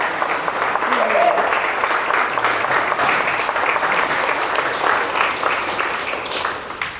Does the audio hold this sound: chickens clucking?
no